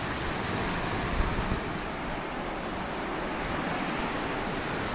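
Steady broadband surf from ocean waves on a beach near Grays Beach and Horseshoe Bay in Queensland, Australia, a continuous wash with light wind noise over the microphone and no speech.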